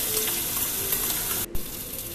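Salt and green chili paste frying in hot oil with carom seeds for an arbi (taro root) sabzi, a steady dense sizzle throughout with a brief dip near the end, no talking.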